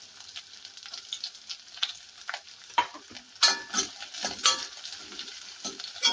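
Chopped onion sautéing in hot oil in a pan over a high flame, a steady close sizzle broken by repeated scraping and stirring strokes of a spoon against the pan.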